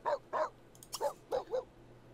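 A stray dog in The Sims 3 gives a short run of barks, two yips, a brief pause, then three more, close and clear with no talking.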